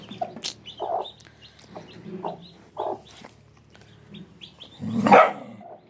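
A hen clucks in short bursts, close by, with a louder squawking call near the end; a dog barks briefly among the calls. A chick has been trampled to death.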